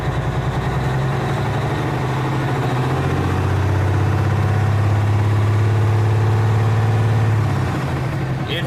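A diesel truck engine idles steadily with a deep, even rumble that holds close and loud for the whole stretch, and a faint voice comes through underneath.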